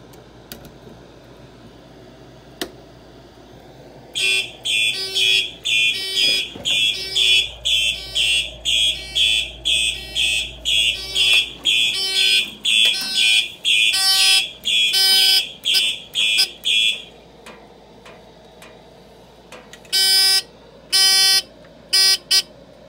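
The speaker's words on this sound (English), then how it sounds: "Now, I'm going to demonstrate the duct detector." A Simplex fire alarm system sounds during a duct detector test, a loud, harsh electronic buzzer pulsing in quick bursts again and again. It pauses briefly, then resumes with a few more pulses.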